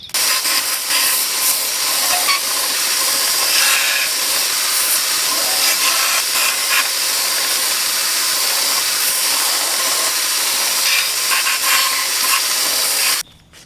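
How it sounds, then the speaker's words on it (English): A belt grinder shapes a knife handle and its pins down to the 1095 steel with a loud, continuous abrasive hiss that holds steady for about thirteen seconds, then stops abruptly. "I'll also grind down these pins, being careful not to overheat them and melt them"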